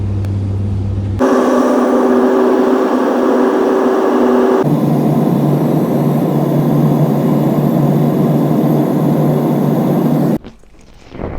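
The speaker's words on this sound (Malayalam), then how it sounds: "ഇതാണ് ഞങ്ങൾ വന്ന ഫ്ലൈറ്റ് ഇൻഡിഗോ." An IndiGo passenger jet's engines roar steadily on the ground at Chennai airport, a loud sustained whine and rumble that shifts pitch partway through before cutting off abruptly near the end.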